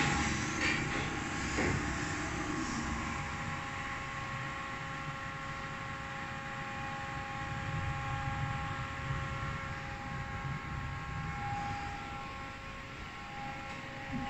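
A lift runs inside the Port Łódź shopping centre, giving a steady, even mechanical hum with faint high whine and rumble that holds at constant level throughout, with no talk over it.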